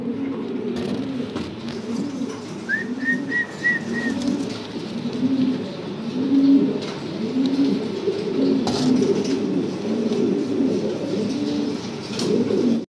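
A pair of large black Bombai pigeons coo in low, repeated throaty phrases, close and steady throughout, with a brief higher chirp from another bird partway through.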